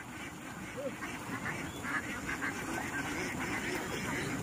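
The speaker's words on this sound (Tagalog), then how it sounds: "Papaano yung itik eh, dadalhin doon." Domestic ducks being herded on a Philippine duck farm, a steady din of many quacks blending into a dense, continuous flock noise at moderate distance.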